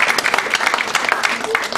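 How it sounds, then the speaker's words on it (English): Brief burst of audience applause at a school Christmas science lecture, many hands clapping close and loud in quick irregular bursts. "So can we give them a big round of applause?"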